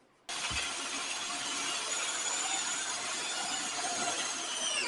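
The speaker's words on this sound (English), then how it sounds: "I'm going to drill a hole that's just a skosh bigger than 1/4 inch." A power drill bores a hole just over a quarter inch wide while a shelf is being installed, a steady, loud high-pitched whir starting abruptly and running continuously without pause.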